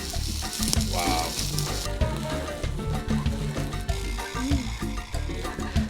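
Torta fillings of potatoes, onions, chorizo and ham fry on a Mexican street-stand griddle, a steady close sizzle with scraping and stirring clatter throughout.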